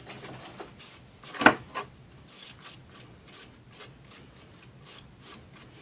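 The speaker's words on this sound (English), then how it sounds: "I'm just going to take a brush here and smooth this around the edges just a little bit." A brush strokes around the edges of wooden planks on a Dollar Tree craft sign. Soft, rhythmic rubbing swishes are heard, with one sharper knock near the start, close and fairly quiet, with no talking.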